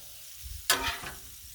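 Vegetables for a shrimp stir fry hit a hot Blackstone griddle set near low, bursting into a sudden loud sizzle that quickly fades, with a stir or scrape near the end.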